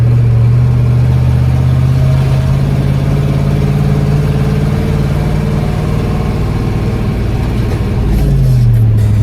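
A Ford F600 truck hauling soybeans to the elevator drives along with a loud, steady engine drone that holds continuously and shifts pitch briefly near the end.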